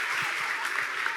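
Audience applause fills a church talk or sermon hall, a steady, dense wash of many hands clapping throughout, loud and close with no talking over it.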